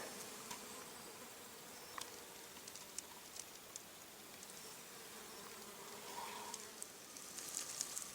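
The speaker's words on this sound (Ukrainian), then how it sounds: "Вона тут скрізь і скрізь на ній годуть бджоли." Bees feeding on water mint in a marsh, buzzing steadily outdoors, a soft continuous hum with occasional nearer insects passing by.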